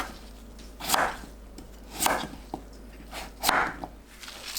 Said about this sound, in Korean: 무를 반 가르고 불규칙적으로 썰어줍니다.